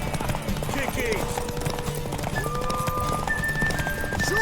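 Horse hooves clip-clopping in the video game Witcher 3 Wild Hunt, a steady rhythmic trot with an occasional whinny, heard under people talking and game music.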